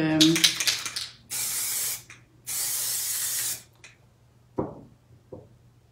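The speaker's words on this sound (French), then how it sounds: "le spray dans votre toile, ça va vous servir à, comme ici" Spray bottle misting water onto a large painting canvas, two long loud hissing bursts close by, followed by a couple of brief soft taps, with no talking.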